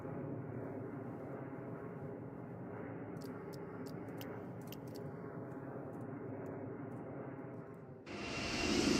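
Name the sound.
airliner landing replay in a flight simulator video game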